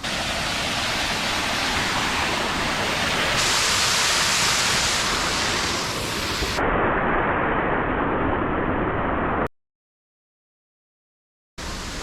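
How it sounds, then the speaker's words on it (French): A waterfall in Ireland pours steadily, a loud dense hiss of rushing water that shifts in tone partway through before cutting abruptly to silence and briefly returning. "Oh, une cascade!"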